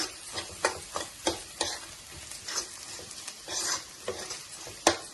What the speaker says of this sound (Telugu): మంచిగా ఫ్రై చేద్దాం